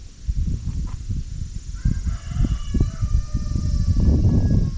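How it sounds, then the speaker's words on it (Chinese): A rooster crows in the distance in a quiet village built on a cliff in Jinhua, Zhejiang, with drawn-out calls rising over a steady low rumble of wind and a stream below. "这大中午的竟然还有公鸡的鸣啼声"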